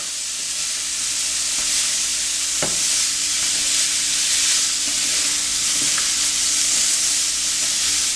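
Chicken sausage frying in a pan with a steady, close, loud sizzle, broken by a few sharp scrapes and clinks as the pieces are stirred.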